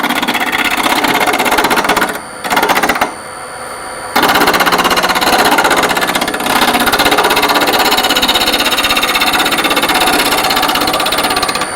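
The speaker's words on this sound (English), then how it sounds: "Maybe a little more lathe speed." A wood lathe spins a sphere blank under light cuts, giving a loud steady whirring drone with a rough, buzzing scrape that runs continuously, broken by a short dip and a brief near-silent gap before resuming at full level.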